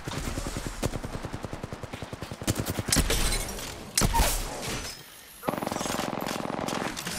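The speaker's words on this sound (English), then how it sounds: "Opening fire on the enemy." Automatic weapon fire in Apex Legends while playing Pathfinder, rapid sustained bursts of loud close shots broken by brief pauses, with game effects layered in and short stretches of voice.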